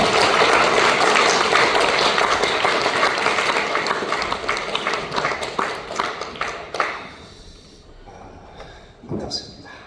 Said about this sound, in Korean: 나오실 때에 우리 뜨겁게 박수로 환영하겠습니다.